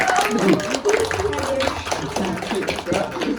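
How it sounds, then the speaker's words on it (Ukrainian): Guests at a graduation celebration applaud in a dense, close flurry of hand claps, mixed with excited talking and cheering voices. "Аплодисменти!"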